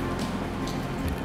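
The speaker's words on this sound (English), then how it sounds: "It's raining. It's pouring." Rain pours steadily outside a cabin, a dense continuous hiss of drops spattering on surfaces, close and even throughout with no pauses.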